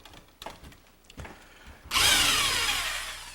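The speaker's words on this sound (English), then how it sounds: "He's drilling a couple of pilot holes where he's marked it with the template." A power drill bores pilot holes into a wooden garage wall stud, starting abruptly and loudly after a few soft knocks and handling sounds, then whining steadily while it cuts.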